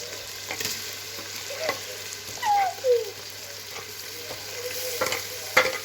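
Ginger and garlic frying in a pan, a steady soft sizzle with scraping stirs of a spatula and a few brief clinks, close and continuous without speech.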